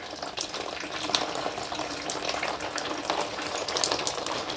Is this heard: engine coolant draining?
yes